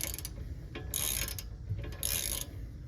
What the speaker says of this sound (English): We're just going to remove these bolts.